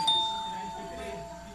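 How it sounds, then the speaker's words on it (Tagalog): A bright two-tone doorbell chime rings once at close range in a resort hotel room in Naic, Cavite, fading into a quiet room with faint voice. "Doorbell muna tayo."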